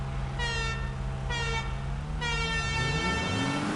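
Three long honks from a vehicle horn sound in a GTA video game race, each a sustained bright, brassy blast, the third held longer, with a continuous low engine drone running underneath.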